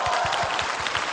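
An audience at a stage magic show with card tricks claps in a steady, dense burst of applause that fills the whole moment at an even, loud level.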